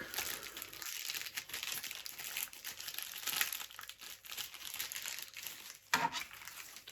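Packaging from a lost Ukrposhta postal parcel being crumpled and crinkled during unboxing, a busy, continuous rustle of plastic and paper with occasional sharper crackles, close and fairly quiet, with no talking.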